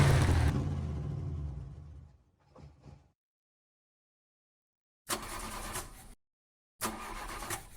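A car engine in GTA San Andreas cranks and sputters without catching, a loud burst fading out, then two separate churning cranking attempts after a pause, with no talk over them.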